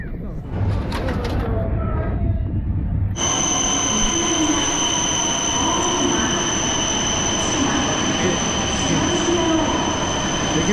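A train idles loudly at a Tokyo railway station, a steady high electric whine and rumble setting in after a few seconds, with faint voices and platform bustle underneath.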